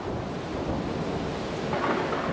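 A thunderstorm with heavy rain roars as a dense, continuous wash of noise with low rumbling throughout, loud and unbroken, no voices.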